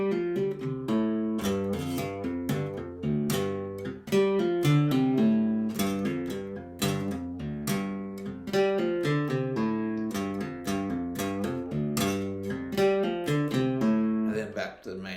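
A guitar plays a slow single-note riff, notes picked and pulled off in a steady repeating pattern, close and clear, no talking.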